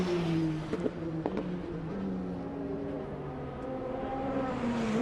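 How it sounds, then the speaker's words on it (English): Formula 3 race cars lap the Norisring street circuit during qualifying, their engines a continuous whining drone with shifting pitch as cars come and go at a distance, plus a couple of sharp clicks, no talk. "So the cars we have out on track"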